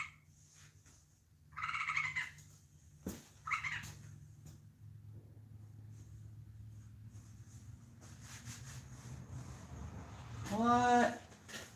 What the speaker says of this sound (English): Sounds like I got a bird living in the corner of my garage over here.